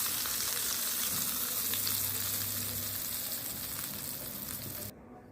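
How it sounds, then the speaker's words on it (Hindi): Cumin seeds roast in a pan for raita tempering, giving a steady, close frying sizzle that runs unbroken before cutting off abruptly near the end. "ये थोड़ा सा जीरा भुन जाए।"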